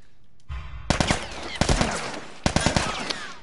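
Rapid gunfire in The Last of Us, loud close bursts of automatic shots in three separate volleys with brief pauses between them, and no talking.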